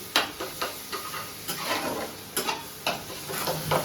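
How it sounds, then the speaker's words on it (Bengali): Onions, tomato and green chillies sizzle in a pan while a spoon stirs them, giving a steady close frying hiss with repeated scraping strokes, and no talking. "পেঁয়াজের মধ্যে টমেটো আর কাঁচা লঙ্কা দিয়ে দিয়েছি, এবার এইগুলোকে মিক্স করে নিই।"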